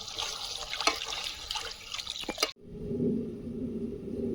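Water is poured into a pan of yogurt-based katla fish curry. A close, busy liquid splash runs for a couple of seconds, then cuts to a lower, softer bubbling churn, with no talk.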